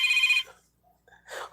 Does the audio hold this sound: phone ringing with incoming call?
yes